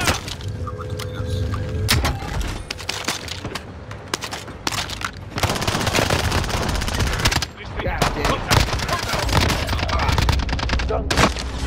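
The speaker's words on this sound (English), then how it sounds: "Under fire here!" Dense automatic and rapid gunfire from the video game Call of Duty: Modern Warfare, loud bursts and cracks running nearly continuously with brief lulls, a voice speaking at moments underneath.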